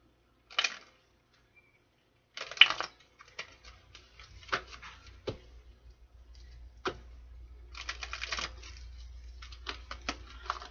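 Tarot cards are shuffled in several quick, crisp riffles and soft slides, fairly close and quiet, separated by pauses, with a low background hum in the second half.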